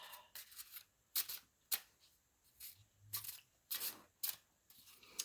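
Crisp bursts of a tarot card deck being shuffled and riffled, a series of short papery flurries with quiet pauses between, close and clear.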